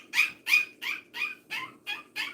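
A newborn puppy, two to three weeks old, whimpers in seven short, evenly spaced high-pitched cries, close and fairly soft, with no talk.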